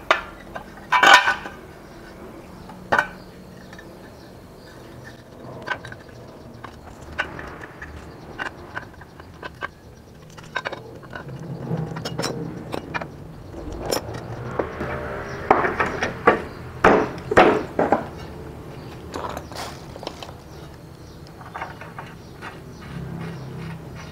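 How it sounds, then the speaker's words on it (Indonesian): Bare scooter wheel rim being fitted to a classic Vespa without its tyre, with scattered metallic knocks, taps and clanks of tools and parts, some sharp and close, others softer, through a shop setting. "Kita pasang pelek tanpa ban."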